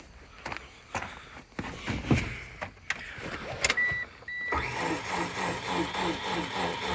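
A DSM car engine with its spark plugs removed turns over on the starter, preceded by scattered clicks, thumps and a short whir, then a steady rhythmic cranking churn that runs on without firing.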